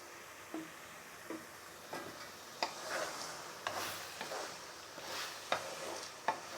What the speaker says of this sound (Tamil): இந்த எண்ணெயில் லைட்டாக கோல்டன் ப்ரௌன் ஆகிற வரைக்கும் என்ன பண்ணுங்கன்னா வறுபடணும்.